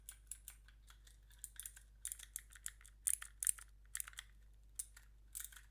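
Keys of a keyboard fidget toy click in quick, irregular bursts, crisp and close, with faint steady hum beneath and no talking.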